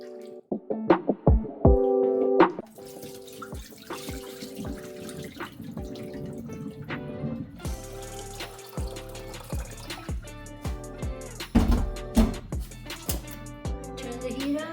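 Tap water runs and splashes over pork ribs being washed in a kitchen sink, with clattering knocks and splashy drips early on, then a steadier close stream broken by irregular bumps and sloshes.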